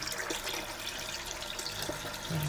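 Water runs from a tap while rose stems are cut under it, a soft continuous splashing trickle, close and fairly quiet with no talk.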